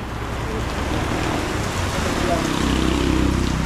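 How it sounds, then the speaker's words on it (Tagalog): Heavy rain pours steadily in Nasugbu, a dense hiss that swells slightly louder toward the end, with people talking nearby over it. "Biglang lumakas ang ulan."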